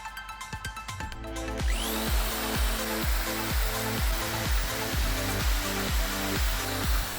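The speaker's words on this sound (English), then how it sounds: "I connected the vacuum cleaner and as you can see, I have vacuum" A loud, steady vacuum cleaner powering a vacuum forming rig roars up after a brief start, its drone pulsing with a regular rhythmic chug, close by.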